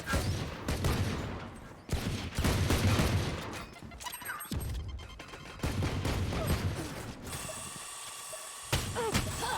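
A swarm grenade goes off in a tactical shooter game, a loud rattling burst of rapid mechanical pops and ratcheting clicks that breaks off and resumes several times, ending in a high ringing tone.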